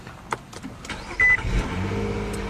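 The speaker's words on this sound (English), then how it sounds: "push the button to start the engine" A few soft clicks are followed by a short electronic chime, then a 2015 Nissan Altima 3.5 SL's VQ V6 engine cranks via push button and settles into a steady idle.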